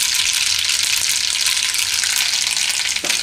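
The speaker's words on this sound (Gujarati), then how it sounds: "તેલ આપણું ગરમ થઈ ગયું છે. એમાં પહેલાં આપણે રાઈ નાખીશું." Mustard seeds sizzle in hot oil in a pan as a dense, steady crackling hiss that stays loud and close throughout, with one faint knock near the end.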